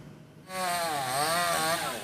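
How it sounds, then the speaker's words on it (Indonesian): A chainsaw starts up and cuts through branches of a banyan tree that fell onto cars on a Jakarta street after wind and rain, its engine snarling loud and close, wavering in pitch as it bites into the wood. "Tugas menggunakan gergaji mesin untuk memotong dahan pohon yang menimpa kendaraan demi mengevakuasi korban."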